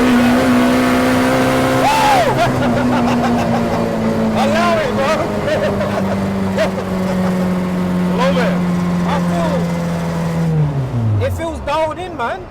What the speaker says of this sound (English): it's an older car with a load of power